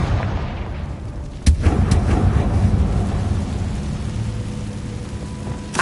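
Confringo fire blast spell cast in Hogwarts Legacy, a sudden sharp crack followed by a deep rumbling boom that rolls on for several seconds, loud and dense, with no talking.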